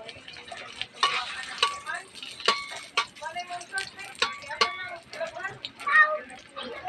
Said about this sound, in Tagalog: igisa natin yung bawang